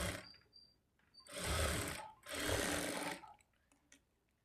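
A sewing machine stitches blouse lining cloth in two loud, close bursts of rapid mechanical whirring, each lasting about a second, separated by a short pause and followed by quiet handling.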